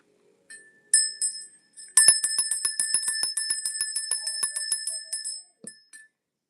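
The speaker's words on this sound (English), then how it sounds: "Let me ring the bell." A small handheld bell rung during a tarot reading: a few tentative single strikes, then a rapid run of bright metallic rings that blur into a shimmering tremolo before fading out, close and alone.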